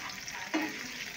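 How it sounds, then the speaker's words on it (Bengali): Onions and tomatoes frying in a pan, a short burst of sizzle with one quick stirring scrape partway through. "টমেটো ভাজা ভাজা হয়ে গেছে"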